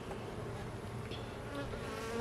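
A dense, steady buzzing of many honey bees at a hive feeder filled with sugar water, close by and continuous, with faint rustling underneath.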